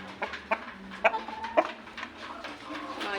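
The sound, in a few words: BP breed chickens clucking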